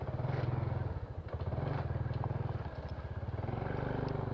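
Motorcycle ridden at night, a close, steady low engine putter with rapid regular pulses, holding a constant pace with slight rattles and road noise over it.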